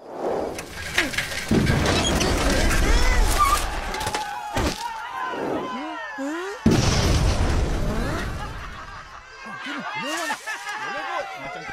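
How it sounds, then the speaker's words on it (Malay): Two heavy bamboo cannon booms go off several seconds apart, each a loud blast that fades, with expressive voices talking between and after them. "Ada meriam buluh. Babum. Dia meletup kuat."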